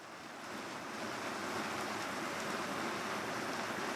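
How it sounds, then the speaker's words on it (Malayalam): A steady, dense hiss of heavy rain pours down without pause over the city of Thiruvananthapuram, fairly distant and even throughout. "തിരുവനന്തപുരം നഗരത്തിൽ ശക്തമായ മഴ തന്നെയാണ് ഇപ്പോൾ പെയ്തുകൊണ്ടിരിക്കുന്നത്"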